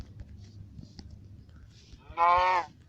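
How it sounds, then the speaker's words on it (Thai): A Minecraft cow gives one short, loud moo near the end, after a stretch of low, quiet game background noise. "วัวนั่งได้"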